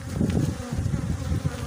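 Dense, steady buzzing of many honey bees at an open hive frame during a beekeeping inspection, close and continuous with no talk.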